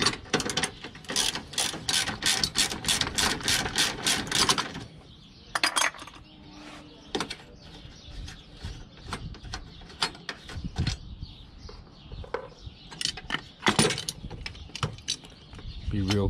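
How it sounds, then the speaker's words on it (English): A ratchet wrench clicks rapidly while loosening a 12 millimeter bolt on a Toyota Hilux pickup battery, followed by quieter scattered metallic clinks and handling noises at close range. "We're gonna start off by removing this bolt."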